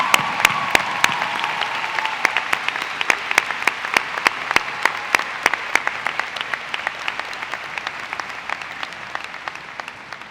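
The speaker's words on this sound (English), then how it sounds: "please join me in giving this wonderful woman a very warm round of applause" High school graduation crowd giving warm, sustained applause over about ten seconds, a thick wash of clapping punctuated by a steady run of loud, sharp individual claps close by.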